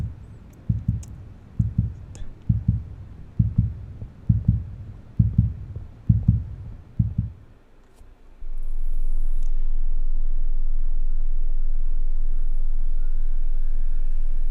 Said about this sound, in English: as you can tell by my heartbeat, no good.